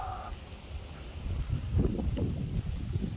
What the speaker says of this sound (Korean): 바람이 죽을 줄을 모르고 점점 거세지더니 지금 장난이에요, 완전.